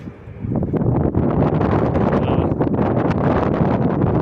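Strong wind gusts buffet the microphone continuously on a high, cold November hiking trail, a loud rumbling roar after a brief quieter start.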